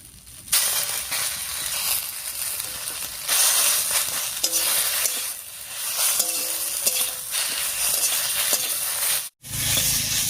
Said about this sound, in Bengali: তো মশলাটা দিয়েছি, এবার একটু কষিয়ে নিচ্ছি।